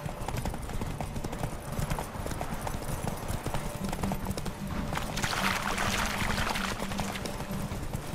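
Roach, a horse in the video game The Witcher 3, gallops with rapid rhythmic hoofbeats, loud and close, over a steady rushing background with a brief whinny-like sound.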